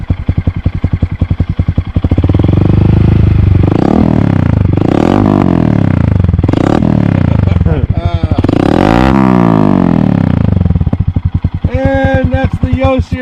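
A Honda Monkey motorcycle fitted with a Yoshimura RS3 exhaust runs loud and close, idling with a steady rapid putter, then revving up and down in several rising and falling throttle blips.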